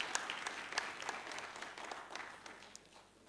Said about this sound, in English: Can we give our Honorable Minister a resounding round of applause once again?